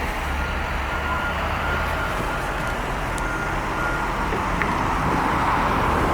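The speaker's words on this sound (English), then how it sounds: "Canada Post truck." A Canada Post truck passes along a city street, its engine a continuous low rumble that swells slightly near the end, with faint traffic noise around it and no talking.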